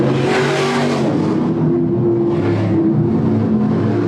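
A supermodified race car engine roars loudly through turns 3 and 4 on a racing oval, a sustained high-revving drone with a second engine sweep building midway, heard close and unbroken.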